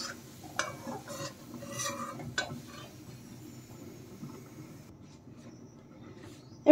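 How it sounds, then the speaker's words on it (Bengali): Onions frying in oil, stirred and scooped out of the pan: soft sizzling with a few utensil scrapes and clinks early, then a quieter fading sizzle. "দেখেন পেঁয়াজগুলো কিন্তু আমার ভালোভাবে ভাজা হয়ে গেছে, এখন আমি তুলে নেব।"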